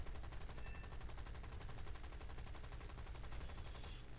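Rapid, continuous warplane machine-gun fire in War Thunder rattles in an even burst, the steady stream of shots filling the whole stretch before cutting off near the end.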